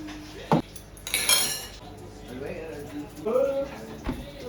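Cutlery and dishes clink during a home dinner of rice, shawarma and stuffed potatoes: a few sharp metallic taps and one brighter clatter of utensils against plates, with a voice murmuring quietly in between.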